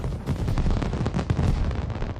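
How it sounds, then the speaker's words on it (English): Bursts of fireworks popping and booming in The Sims 4, dense, loud and close, crackling in quick overlapping blasts with no talk over them. "Oh, I hear fireworks though."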